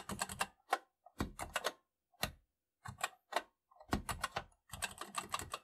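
Keys clacking on a TI-99/4A home computer keyboard during a BASIC program edit, close and crisp, arriving in short bursts of rapid presses separated by brief pauses.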